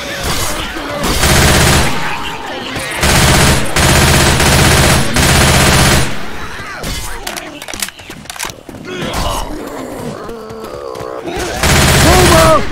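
Sustained bursts of assault rifle fire in Left 4 Dead 2, loud and close, in long automatic volleys broken by short pauses and scattered game effects.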